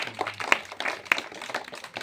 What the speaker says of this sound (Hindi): ताली बजा किसी भगवान के नाम पर